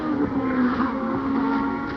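A Formula 1 car at the 1990 Japanese Grand Prix at Suzuka sits in a pit stop with its gearbox apparently stuck in neutral, engine running. It makes a steady, loud droning idle that holds evenly for about two seconds.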